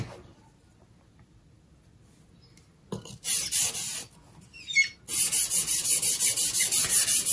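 A woodworking tool blade is rubbed across a sharpening stone set on a rubber base, with quiet at first, then close, repeated rhythmic scraping strokes that grow into a steady back-and-forth rasp.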